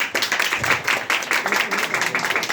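An audience claps in a brief burst of applause to vote a player off during an improv comedy game, with fast, dense clapping from a room full of people.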